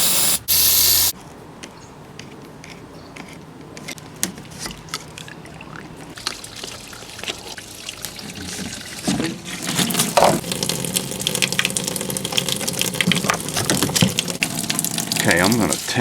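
Water gushing out of a pool pump filtration system where a hose has been removed, a loud steady spray that rises in intensity partway through, heard alone without talk.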